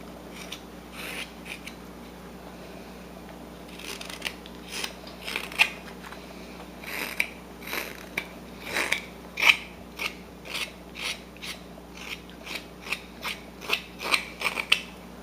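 A knife carves and thins down a stylized wooden fish, producing crisp, close cutting clicks and scrapes that come in irregular bursts and grow more frequent over a quiet background.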